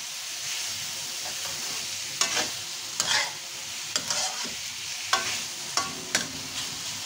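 Mixed bihon and canton noodles being sautéed in a pan give off a steady close sizzle, broken by sharp scraping and clattering strokes as they are stirred and tossed at irregular intervals.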